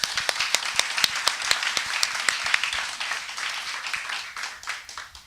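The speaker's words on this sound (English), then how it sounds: "Give them a big round of applause." An audience at a wool symposium applauds a sheep-breeding panel with brisk, dense clapping that starts strong and gradually thins and softens over several seconds, with no talk.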